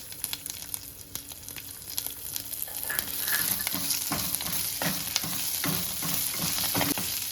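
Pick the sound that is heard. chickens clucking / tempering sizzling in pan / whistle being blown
tempering sizzling in pan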